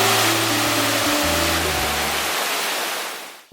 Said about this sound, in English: I hear a waterfall. I don't think there's a waterfall here. So coming outside of Logroño, there's a... No, there's not a waterfall. It's actually a river.